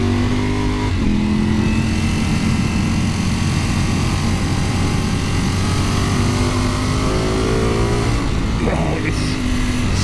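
Ducati Panigale V4S motorcycle pulling hard along a road, its engine a loud, continuous roar with rising revs and gear changes, mixed with wind rush throughout.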